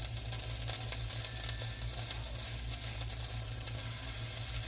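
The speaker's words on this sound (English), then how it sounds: "That sausage is frying up really good." Homemade turkey sausage sizzles and crackles steadily in a hot frying pan, close up and continuous, with a low hum underneath and no talking.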